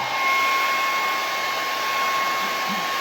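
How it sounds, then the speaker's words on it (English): An old hair dryer with a stuck button blows steadily at close range, a constant airy whir with a faint high whine, running without a break. "my button on my hairdryer is stuck"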